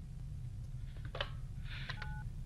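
Short telephone keypad tones beep in quick succession in an SCP horror video game, a few dialing blips over a constant low hum, quiet and close, with no one speaking.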